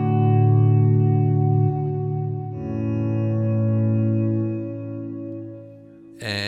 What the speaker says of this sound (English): here is the swell reverb by itself.